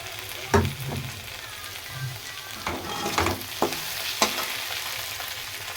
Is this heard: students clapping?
no